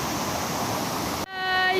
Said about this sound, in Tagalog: Ito po yung waterfall, guys.